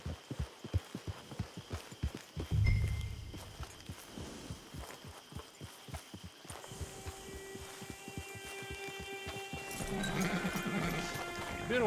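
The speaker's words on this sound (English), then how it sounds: "Get your horse." A horse in Red Dead Online clip-clops in a steady rhythm of hoof beats, then gives a drawn-out whinny near the end, moderately close over a faint ambient hum.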